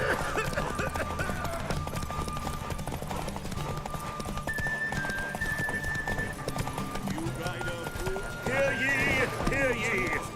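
Roach, a horse in The Witcher 3 video game, galloping in a race with rapid rhythmic hoofbeats throughout, a whinny near the end, and voices talking over the hooves.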